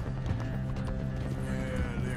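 Horse hooves gallop in Red Dead Redemption 2, a steady rapid clip-clop rhythm that stays close and loud throughout, with brief whinny-like tones mixed in and no talking.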